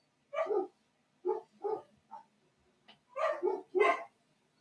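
Pet dogs bark indoors while a storm with tornado risk passes, sharp yips in scattered bursts of two or three, moderately close, with no talk over them.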